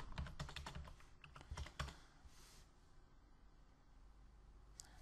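Fast typing on a computer keyboard while setting up website files, a dense run of close clicks in the first two seconds, then quieter scattered keystrokes against a faint room hiss.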